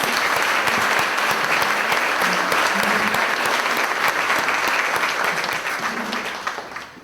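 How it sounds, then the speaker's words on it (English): A large audience gives a sustained round of applause for award winners at a morning meeting, dense and steady clapping that fades out near the end. "Let's give them all a round of applause"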